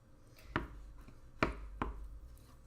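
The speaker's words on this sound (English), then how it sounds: "Oh, maybe I should chop it a little bit." Three sharp knife chops land on a cutting board through garlic and rosemary, spaced unevenly, close but quiet against a faint background hush.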